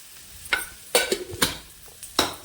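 Onions, tomatoes and green chilies with turmeric cooking in a pan for tomato rice, heard as several separate scraping, stirring clinks of a spoon against the pan over a faint background hiss, with no talking.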